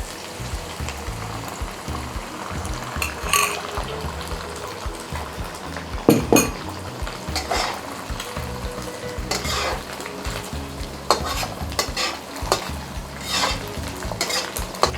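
Egg frying with onion in a pan for spicy fried rice, a constant loud sizzle broken by repeated clanks and scrapes of stirring, no one talking.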